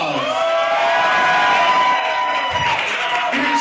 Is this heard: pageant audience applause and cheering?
yes